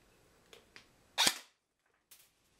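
An airsoft FMG4 gun with an upgraded hop-up unit test-fires BBs: one sharp, close snap stands out, surrounded by a few faint clicks in an otherwise quiet space.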